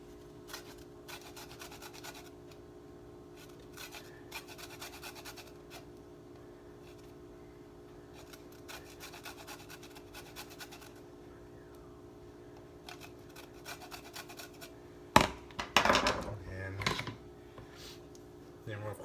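Limes are grated for zest for a cilantro ginger lime shrimp marinade, giving repeated short rasping strokes in quick bursts, close and fairly quiet, followed by louder handling clatter near the end; no one speaks.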